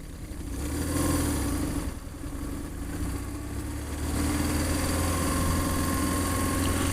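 A motorcycle touring south through Germany on a trip toward Turkey, its engine droning steadily and close by with rising and easing throttle, wind noise overlaid, with no talking.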